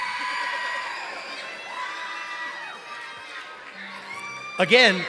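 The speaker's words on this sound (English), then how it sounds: "you're cheering so loud that she actually came out" An audience at a black belt showcase cheers and whoops with high children's shouts, a sustained crowd noise that swells into a loud burst of screaming near the end.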